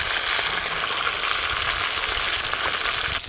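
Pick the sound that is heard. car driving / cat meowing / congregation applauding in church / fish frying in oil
fish frying in oil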